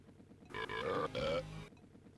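A cartoonish burp from the Donkey Kong 64 video game, a single short, loud, croaking belch lasting about a second, alone over quiet background.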